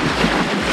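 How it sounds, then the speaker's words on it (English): Wind and water noise around a sailing catamaran under way, a steady broadband rush of waves against the hulls with low wind buffeting on the microphone, continuous and fairly loud throughout. "hopefully the waves will stay like this"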